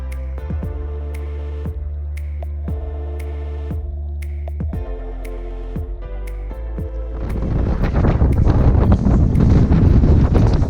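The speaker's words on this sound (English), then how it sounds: "It's so windy." Strong wind buffets the microphone on Reynisfjara black sand beach in Iceland, with intermittent thumps at first, then a loud, sustained roaring rush that builds toward the end.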